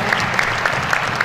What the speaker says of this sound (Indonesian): Tepuk tangan dulu bagi Tuhan yang hebat